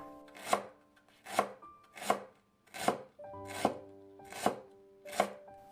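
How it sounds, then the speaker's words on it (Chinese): Knife chopping a small piece of fresh ginger into thin slices on a cutting board, seven crisp, evenly spaced strikes close by, with no talking. "接着准备1小块生姜，切成薄片"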